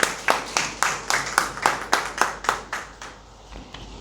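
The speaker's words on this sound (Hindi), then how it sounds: "वरिष्ठ नेता श्री राजेंद्र पांडे जी, तालियों के साथ स्वागत करें" An audience at a political rally claps in steady rhythmic unison to welcome a senior leader to the stage, the beats loud and close before thinning out into a quieter murmur near the end.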